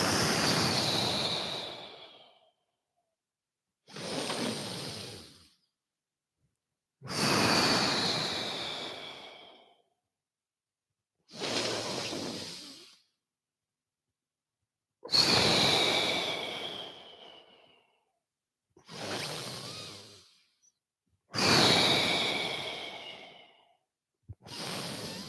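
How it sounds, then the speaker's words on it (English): During a yoga session, a person exhales through an open mouth, making eight long, close, breathy sighs. Each sigh fades out and is followed by a quiet gap. "Exhale, chin to chest with a mouth open."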